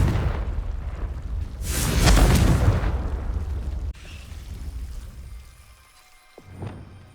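Confringo fiery explosive spell in Hogwarts Legacy, a loud rushing blast swelling and crackling for a couple of seconds before cutting off, followed by quieter ambience and a small later pop.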